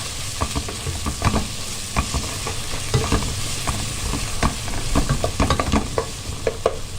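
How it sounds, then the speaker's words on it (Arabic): Peppers are stirred in a hot sizzling pan: steady frying hiss under repeated scraping and clinking strokes of the spoon, close and fairly loud, with no talking. "احط شويه الفلفل، نقلبهم مع بعض"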